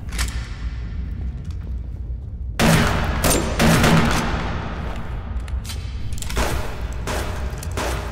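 Double-barrelled shotgun fire in the survival video game Subsistence: loud booming blasts at about 2.5 and 3.7 seconds stand out over steady gameplay ambience, with further softer bursts after them.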